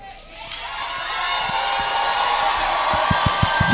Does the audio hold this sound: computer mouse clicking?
no